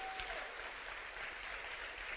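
Audience at a London poetry slam applauding a poet, continuous crowd clapping that fills the whole stretch at an even, moderately loud level.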